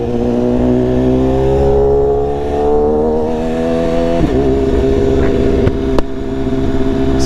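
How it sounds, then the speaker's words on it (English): Dirt bikes revving under a bridge near a skate spot in Queens, with loud droning engines rising in pitch as they accelerate and pass close by, followed by sharp throttle blips. "Some dirt bike hooligans."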